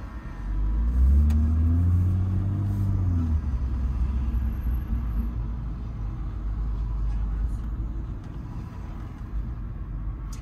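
A BMW M140i engine in comfort mode hums low and steady while driving in Ajaccio, with a deep rumble swelling early then settling into a quiet, even drone.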